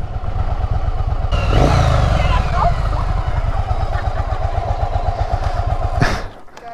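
A chopper motorcycle engine runs while being ridden, a loud, close, steady low rumble with a rise in revs early on and wind and clatter over it before it cuts off near the end; a voice is briefly heard.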